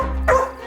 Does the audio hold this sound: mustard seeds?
no